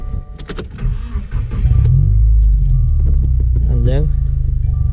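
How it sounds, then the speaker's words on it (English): A 2016 Subaru WRX engine cranks and catches, settling into a loud steady idle rumble close by, with a person talking briefly just before it starts. "Okay, turn on the car."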